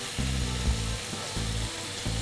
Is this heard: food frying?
yes